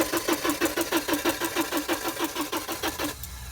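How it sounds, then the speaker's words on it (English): A rapid, even mechanical pulsing from a 1987 Porsche 924S with its fuel pump running, close and steady, buzzing in quick regular beats before thinning out near the end. "I've got the fuel rail back on now, and as you can hear, the fuel pump is running quietly"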